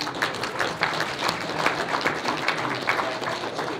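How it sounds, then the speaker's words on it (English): A crowd at the Olympia bodybuilding weigh-ins gives a round of applause, with many hands clapping in a lively, pulsing rhythm at close range and no pause. "Let's give each other a round of applause."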